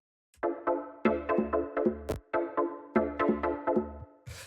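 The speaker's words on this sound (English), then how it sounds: "After that, we have these stabs," Deep minimal house synth stabs: a run of short, punchy chord hits with a low bass thump under each, spaced in a syncopated pattern, loud and close with no voices.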